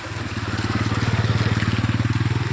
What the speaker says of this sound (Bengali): এই যে একটা বাইক আসছে ভিজে ভিজে কেটিএম পাড়ি